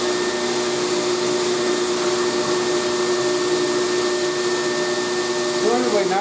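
A fluid bed coffee roaster runs with its exhaust fan going, giving a steady, loud blowing whoosh with a constant tonal hum. Near the end a faint rising whistle-like sweep appears.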